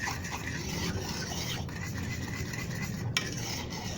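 Butter, milk and cocoa for no-bake oatmeal cookies are stirred together in a pot. A continuous, close scraping swirl runs steadily with no talking.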